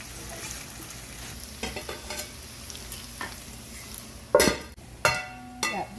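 Potatoes browning in hot oil in a pan give a low sizzle under intermittent stirring scrapes and a few sharp clinks of utensil against the pan near the end.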